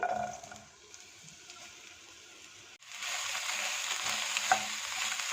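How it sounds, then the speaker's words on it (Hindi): Green onion, capsicum and green chili fry in oil over medium-low heat with a quiet hiss and stirring scrapes. The sizzle grows noticeably louder and denser partway through, with an occasional sharper tap from the utensil. "इतनी देर मीडियम लो हीट पे भुनेंगे कि ये वॉल्यूम में थोड़े से कम हो जाए"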